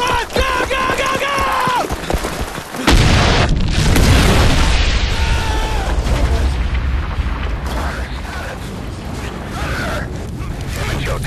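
A bomb goes off in the video game Ghost Recon Future Soldier with a loud, deep, rumbling explosion that follows urgent shouting voices and carries on under continued talk and debris noise.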